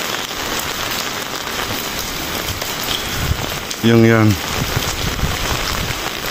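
Steady rain falls on a vegetable farm where carrots are being harvested, a dense even hiss throughout with a brief louder burst midway and a short spoken remark over it.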